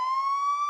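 A police car siren sounds alone in a short, loud, steady burst, a single sustained electronic wail that stays level from start to finish.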